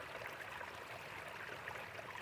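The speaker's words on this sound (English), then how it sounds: "Water spilling gently from one shallow basin into another, creating a slow, layered rhythm, soft, steady" Water spills gently between the shallow basins of a pale stone garden fountain, a soft, steady trickling flow without pauses, fairly faint and heard alone.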